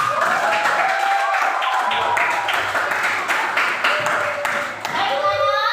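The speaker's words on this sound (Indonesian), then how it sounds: "tepuk tangan buat kita semua" Children in an Indonesian classroom clap their hands together during a lesson, producing a steady, dense patter of claps mixed with their excited voices, close and fairly loud throughout.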